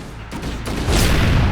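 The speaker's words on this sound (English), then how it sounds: "my favourite being the Needler, which shoots a heap of, well, needles that track to a target and explode after a short time" Needler weapon firing in Halo Combat Evolved, a loud burst of rapid crackling shots building into a dense rumbling volley over about a second and a half.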